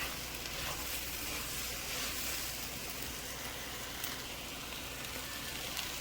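A stir-fry sizzles in a hot pan, a steady, fairly faint hiss that runs evenly throughout with only a few small crackles and no voices.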